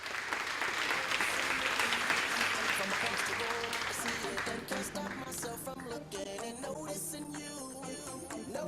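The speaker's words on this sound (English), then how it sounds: "Round of applause for the team" An audience applauds a secondary school debate team called to the stage at a national school debate, loud clapping that swells early and then tapers as music and voices rise over it.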